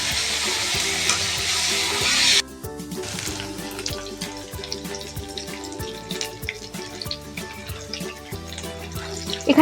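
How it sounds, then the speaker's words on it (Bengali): Oil sizzles loudly at first as cauliflower goes in, then the frying settles into a steady crackle with repeated clanks of a utensil stirring in the pan. "এবার ফুলকপিটা ভেজে নেব এখানে"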